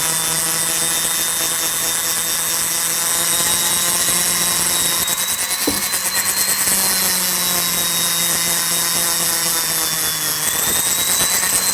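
Steady whine of a bench-mounted polishing motor buffing a steel hammer face, running continuously and fairly loud with a constant hum, with a brief scraping contact near the middle and no talk.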